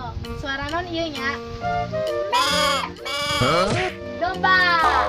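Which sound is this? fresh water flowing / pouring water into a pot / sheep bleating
sheep bleating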